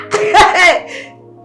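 A single sharp sneeze close by, a quick burst followed by a short fading breathy tail.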